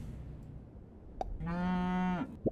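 A cow in the video game Super Auto Pets gives one low, drawn-out moo lasting about a second, clear and near, with a few faint clicks around it.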